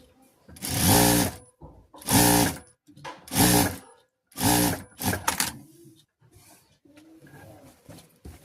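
A sewing machine stitches a blouse sleeve at a half-inch margin, running in four loud, steady bursts of about a second each with short pauses between, then fainter scattered handling noise.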